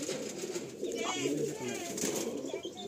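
Andhra-bred pigeons in a loft coo softly and repeatedly at close range, the low throaty calls blending with rustling while someone speaks nearby.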